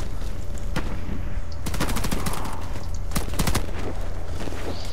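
Rapid gunfire in the online shooter Warface, a pistol and automatic weapons cracking in quick bursts and single sharp shots over steady background noise, no talking.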